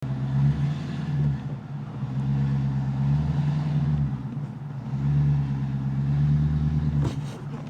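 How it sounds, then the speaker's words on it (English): A car's engine hums at low idle and swells in slow surges as the car is driven up onto ramps, close and fairly loud, with a sharp clunk near the end. "drive our car up on the ramps"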